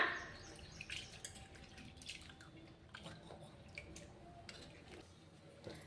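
Cut potato sticks being washed by hand in a bowl of water: close, soft splashing, dripping and squishing in irregular bursts, fairly quiet.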